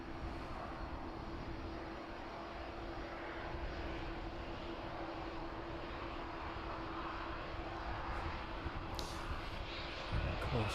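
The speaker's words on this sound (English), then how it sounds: "757 still one of the workhorses of the DHL fleet" A DHL Boeing 757 at East Midlands Airport in the evening, a steady broad engine roar that holds level for about ten seconds and swells slightly toward the end, with no voices.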